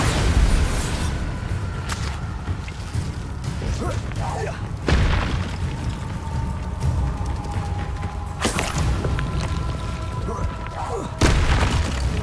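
Confringo and Bombarda spell explosions in the Hogwarts Legacy video game, several heavy booming blasts and thuds recurring over a constant low rumbling game backdrop.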